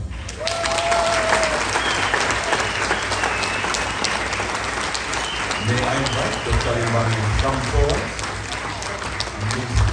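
Sustained applause fills a hall at a university health sciences research dissemination conference award presentation, loud and continuous while someone speaks over it on a microphone.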